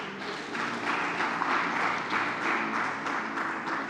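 A congregation applauds in praise during a prayer gathering, a steady wash of many hands clapping with some cheering, loud and sustained throughout without a break.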